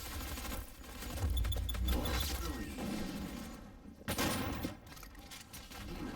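Weapon fire in the Doom beta video game, a fully charged energy weapon followed by super shotgun blasts, heard as dense overlapping bursts with a loud low-end swell and a sharp blast near the end, no talk.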